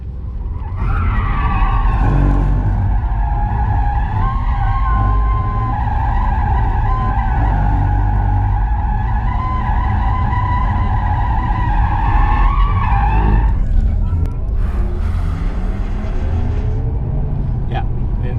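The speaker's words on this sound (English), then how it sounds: "now we are on the limit of electrical braking, and if I push harder, then the hydraulic brake is coming in addition" Tires of a 2020 Porsche Taycan Turbo S electric car squealing loudly under hard braking on a race track, a sustained close screech lasting most of the moment before fading, with a voice speaking faintly underneath.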